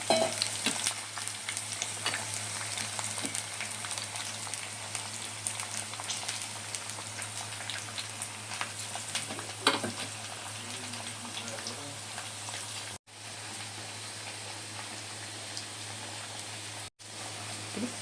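Chopped ivy gourd fries in hot oil for catering-style pakodi, giving a steady, dense sizzle and crackle that runs on without a break, close and moderately loud, with no voices.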